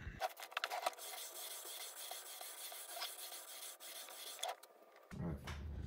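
Sandpaper rubbing over the guitar frets of an ESP Alexi during a fret-levelling job, a continuous close rasping scrape with brief pauses and a change of stroke near the end.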